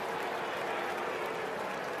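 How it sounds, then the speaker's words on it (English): A baseball stadium crowd at a Yankees vs Athletics game reacts to a first base umpire's check-swing call with a steady, distant roar of massed voices that holds evenly throughout, with no distinct individual words. "Crowd didn't like that call."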